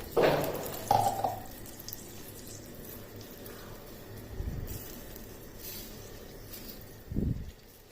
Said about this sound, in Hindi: तकरीबन मैं इसमें ½ लीटर पानी डाल रही हूँ।